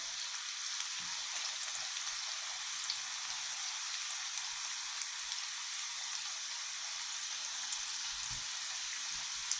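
Onion bhaji batter fries in hot oil, a steady close sizzle and fine crackling hiss with occasional small pops and stirring bumps, no talking.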